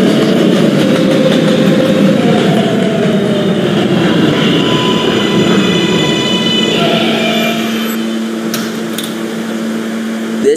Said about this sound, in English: This is a West Bataan bound D train.